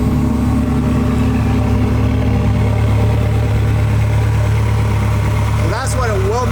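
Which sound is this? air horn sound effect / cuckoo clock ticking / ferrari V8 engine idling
ferrari V8 engine idling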